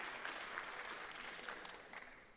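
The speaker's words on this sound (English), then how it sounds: "Yes, go ahead and clap" An audience claps through a debate introduction, a steady wash of hand claps at moderate, fairly distant level that slowly fades toward the end, with no voices over it.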